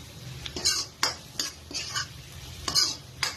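Vegetable fried rice stirred quickly in an iron wok, a spatula scraping and clanking against the metal in rapid, uneven strokes over a low frying sizzle, close and clear without talk.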